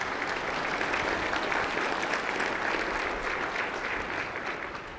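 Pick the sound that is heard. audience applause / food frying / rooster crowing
audience applause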